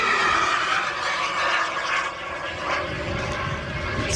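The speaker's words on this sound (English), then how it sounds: "that's the inbuilt thrust tube which the exhaust gases rush down, and you get that very specific noise" Model jet aircraft at a model aircraft airshow, its exhaust gases rushing down an inbuilt thrust tube, giving a steady, loud broadband roar with a slight swell and fade as it passes, with no voices.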